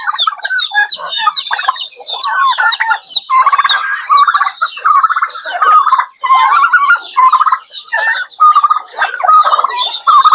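Turkeys of a large, fast-growing breed call on a farm with busy, overlapping clucks and gobbling chatter that runs almost without pause, close and fairly loud.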